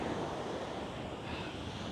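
Waves wash in at the water's edge under gusty wind buffeting the microphone, a continuous, moderately quiet rush of surf and wind noise with no voices.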